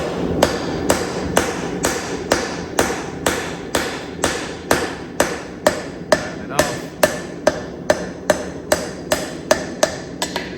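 A hammer strikes steadily down on a rivet while forging a pair of hammer eye tongs, producing about twenty sharp metallic blows in an even rhythm that grows slightly louder and more regular as it goes.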